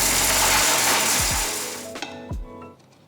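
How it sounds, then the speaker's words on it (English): Mixer grinder whirring loudly as it grinds roasted curry leaves into a fine powder, then spinning down, followed by a couple of rattling knocks of the jar. "transfer it to a mixer jar and grind everything to a nice fine powder"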